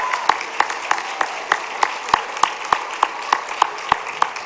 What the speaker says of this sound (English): Another round of applause for all of our contestants.